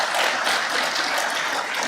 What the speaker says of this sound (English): could I get a round of applause for those 4 individuals